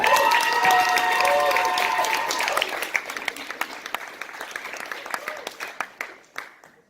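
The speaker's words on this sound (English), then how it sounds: "I want to give a round of applause for Mylan Walker!" Audience applauding at a UCI launch event, with dense clapping and some voices and cheering early on, then tapering into scattered individual claps before fading out.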